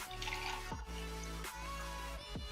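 Water is poured into a pot of beef for a Kenyan-style wet fry, a continuous splashing and trickling pour heard close up over a steady hum, with no one speaking.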